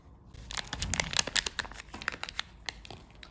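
Close crinkling and rustling of a thin plastic antistatic bag holding an altimeter, a run of sharp crackles and small tearing sounds as the bag is handled and opened.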